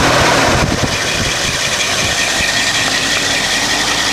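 A 1972 Lincoln Continental's engine idles after a cold start, a steady loud low rumble with a faint rattle and a brief rev near the start before settling into an even idle.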